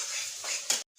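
Pangas fish curry with garam masala is stir-fried in a pan, a close, bright sizzle and scraping stir that cuts off abruptly near the end before resuming softly.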